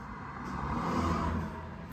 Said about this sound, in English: The car is going by.